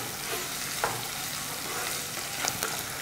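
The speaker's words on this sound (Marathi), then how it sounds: "ही बारीक कट केलेली हिरवी मिरची घालायची आहे आणि ही पण अगदी थोडीशी परतून घेऊया" Finely chopped green chilies sauté in a pan with capsicum and garlic, producing a soft, steady sizzle and occasional faint stirring scrapes.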